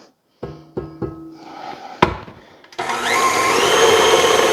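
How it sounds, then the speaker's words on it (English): An electric mixer blending espresso chocolate chip cookie dough before the flour goes in; a few knocks and clatters come first, then the motor starts and runs at a loud, steady whir. "I just want to make sure that everything is blended well before I put in the flour"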